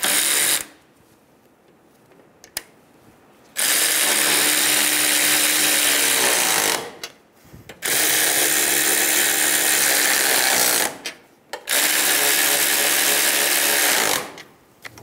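A power tool tightens nuts on a front strut assembly of a 2000-2007 Ford Focus, sounding in three loud sustained whirring bursts of a few seconds each, separated by short quiet pauses.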